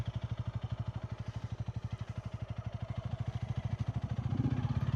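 Honda Rebel motorcycle idling with a steady, rapid low thump, shifted into first gear, the engine note rising slightly and growing a bit louder toward the end.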